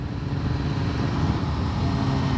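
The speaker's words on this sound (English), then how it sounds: "the sound that you hear right now, the little brrrr that you get when you're kind of on the throttle but kind of not" A 2021 Kawasaki ZX-10R four-cylinder engine burbling at partial throttle on a ride, a continuous low rumbling murmur with rough texture and steady loudness over wind noise.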